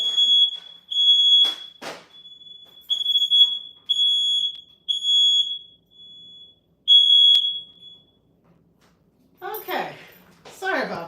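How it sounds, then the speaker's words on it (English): A smoke alarm set off by an air fryer beeps in loud, repeated piercing tones with short gaps, then stops, followed by a few knocks and brief voices close by. "Typically, when I use my air fryer, when I open the air fryer, the fire alarm always goes off."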